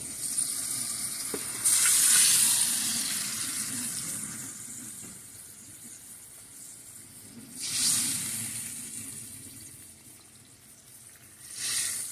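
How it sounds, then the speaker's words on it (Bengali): Fried silver carp pieces and eggplant go into a simmering curry, bringing a few bursts of hissing sizzle that rise and fade over a quiet bubbling background, with no talking. "এবার আমি ভেজে রাখা মাছগুলো ও বেগুন দিয়ে দিব"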